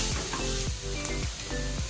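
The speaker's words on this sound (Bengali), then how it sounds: "এই যে দেখো পেঁয়াজ কুচিগুলো দিয়ে দিয়েছে, দিয়ে এটা ভেজে নিচ্ছে হালকা" Chopped onions with ginger and garlic fry lightly in oil in a home kitchen, a continuous crackling sizzle up close with faint tonal sounds beneath it and no speech.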